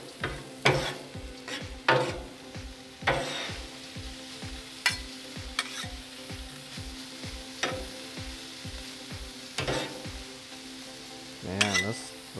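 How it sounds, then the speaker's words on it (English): Cabbage and onions sizzle on a Blackstone griddle while spatulas scrape and tap the steel in a quick, steady rhythm, a continuous frying hiss beneath sharp metallic clinks. "you want to cook this up until that cabbage is kind of just a little bit wilted."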